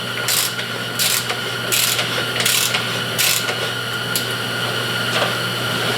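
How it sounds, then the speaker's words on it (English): A wrench tightening ring gear bolts on a Dana 60 Superduty axle, making about half a dozen close, rasping ratchet strokes at a steady pace, with no talking. "I'm going to tighten this back one a little bit, because the ring gear's sitting up a tiny bit higher back here."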